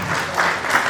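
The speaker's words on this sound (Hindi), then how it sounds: "जोरदार ताली के साथ" Loud, dense applause from an audience at an award and convocation ceremony, a continuous burst of clapping close by without talking.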